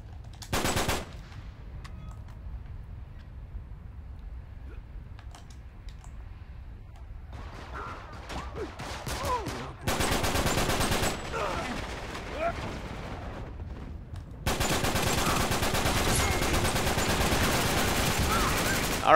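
Gunfire bursts in an Uncharted 3 multiplayer match, including blind fire, with several loud stretches of sustained automatic fire and sparser shots between them, while a voice talks at times.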